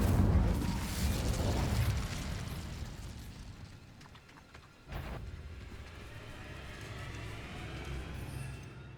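A fire spell goes off in Hogwarts Legacy with a loud whooshing burst that fades out, then a second sharp flare hits midway, followed by a lingering crackling rumble with a faint high ringing tone near the end.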